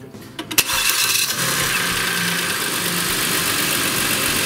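An old Mercedes car engine with 300,000 km on it cranks briefly and then catches, settling into a steady loud idle drone, close up with no talk.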